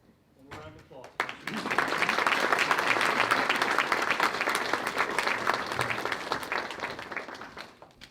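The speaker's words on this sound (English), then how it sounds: "One more round of applause." Round of applause from a crowd at a county board of education meeting, rising after a second into steady, dense clapping that holds for several seconds before easing off, with faint voices underneath.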